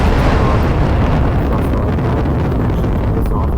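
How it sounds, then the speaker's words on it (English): Spaceship engine in the Roblox game Space Pioneers roars as a loud, steady, broadband rumble with a windy rush, unbroken throughout. "I'm going to turn on the engine now."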